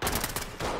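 Brief burst of gunfire in a tactical police video game, a rapid cluster of loud, close shots lasting under a second.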